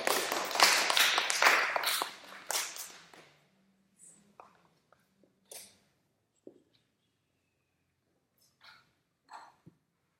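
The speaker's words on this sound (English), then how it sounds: "Yay, applause." Brief burst of clapping from a small group in a conducting class, loud and dense for about three seconds then thinning to a few scattered claps, with faint taps and quiet gaps afterward.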